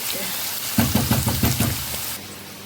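Pork cracklings frying with onion for a dumpling topping, a bright sizzle that swells into a rhythmic series of crackling bursts as the pan is stirred, then settles back to a softer hiss.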